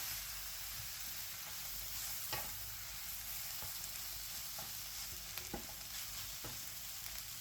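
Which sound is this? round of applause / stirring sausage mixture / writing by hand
stirring sausage mixture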